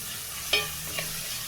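A steady sizzle of onion tempering frying in a pan, with a couple of brief stirring scrapes.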